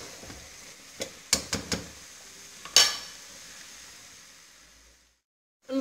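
Harira ingredients, including tomatoes, fry in a pan: a soft sizzle under a few sharp utensil clanks and scrapes near the mic, then sudden silence.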